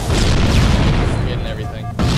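A rocket explodes in a first-person shooter game, a loud booming blast that fills the moment and rumbles on before a second burst cuts in at the end.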